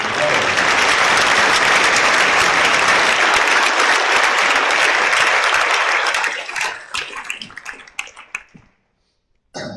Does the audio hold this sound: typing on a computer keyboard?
no